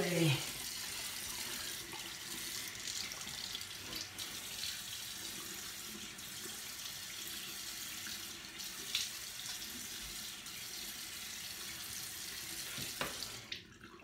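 Tap water runs steadily into a bathroom sink while someone wets their face, a continuous close splashing hiss that lasts throughout, with brief handling noises near the end.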